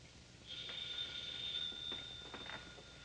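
An old telephone bell rings once in a sustained, shrill electric trill that starts abruptly and cuts off after about two seconds, faint and slightly distant against a quiet background.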